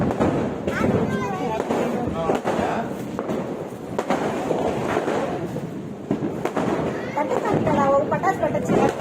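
Repeated Diwali firecracker bangs crackle through a noisy crowd, with voices talking and calling out over the steady din of explosions.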